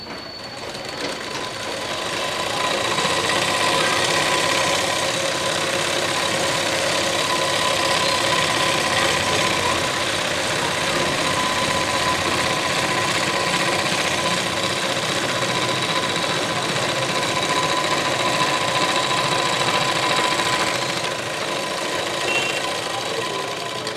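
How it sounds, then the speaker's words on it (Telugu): A sewing machine double-stitches a lehenga seam, running as a steady, continuous mechanical whir for about twenty seconds without pause, close by and with no voices. "ఇలా డబల్ స్టిచ్ చేసేస్తున్నాను."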